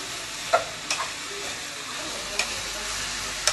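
Vegetables for a vegetable soup sauté in a pot with a steady, loud sizzling hiss throughout, punctuated by a few faint clicks of stirring.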